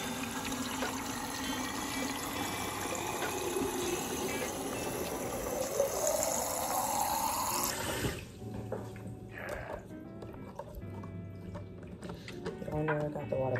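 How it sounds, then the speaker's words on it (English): Water running from a tap into a water bottle, rising in pitch as it fills, then stopping, followed by quieter clatter and a voice speaking. "Gonna fill up my water bottle"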